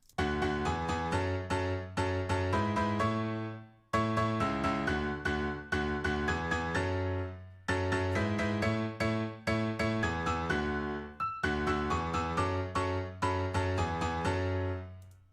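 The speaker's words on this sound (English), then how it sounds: "And together with the melody, it sounds like this." A bright melody rides over pulsing synth chords that step up and down, the pattern repeating in four even phrases, full and upfront with no talking.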